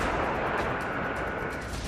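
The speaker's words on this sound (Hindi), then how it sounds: "ये ऐसा धमाका है" A dense, roaring blast rumble fills the whole stretch, loud and unbroken, with no voices.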